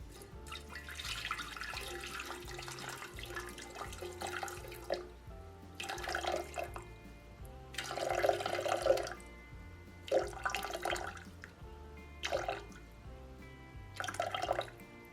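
Water runs from a kitchen tap in irregular spurts and trickles while being measured for white bread dough, fairly faint and close, with no talking.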